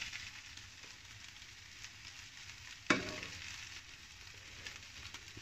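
Codfish and soft potato chips sizzle and fry quietly in a pan while being stirred together, with a single sharp scrape of the utensil partway through.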